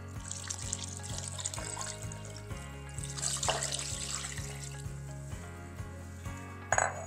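Chicken broth pours steadily into a crock pot for chicken soup, a continuous liquid splash heard under background music.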